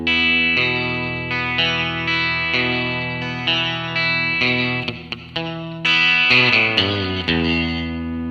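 An electric guitar lick opening on a double stop then running through quick single notes, heavily distorted and coloured by chorus and echo effects, loud and close with steady sustained tones and brief breaks.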